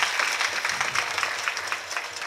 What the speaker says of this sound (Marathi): महिला मंडळ एकदा जोरात टाळी झाली पाहिजे